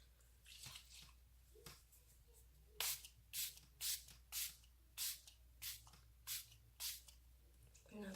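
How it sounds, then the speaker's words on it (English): A string of short, sharp bursts of Milani Make It Last setting spray, about ten quick hisses in a loose rhythm, with soft handling noises before them. "I'm gonna use my Milani Make It Last setting spray"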